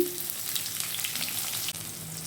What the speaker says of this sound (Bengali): আলু আর পেঁয়াজ এবার বেশ কিছুক্ষণ ভেজে নেব